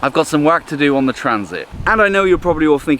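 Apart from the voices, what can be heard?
No everyday noise stands out behind the speech.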